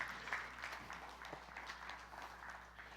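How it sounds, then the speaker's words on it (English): A church congregation gives weak applause: thin, scattered claps at a moderate distance, quiet and sparse, fading slightly over a few seconds. "I expected a bigger applause. That was pretty weak."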